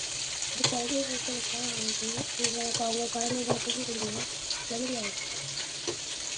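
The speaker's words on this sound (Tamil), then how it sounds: "இப்போ நம்ம மீன் பொறிச்சிச்சு திருப்பி போட்டுக்கலாம்" Fish frying in hot oil in a pan gives a steady, close sizzle throughout, with a voice speaking intermittently over it.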